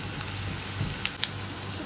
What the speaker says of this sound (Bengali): পেঁয়াজটা হয়ে আসা পর্যন্ত ওখানে এখানে নাড়াচাড়া করতে থাকবে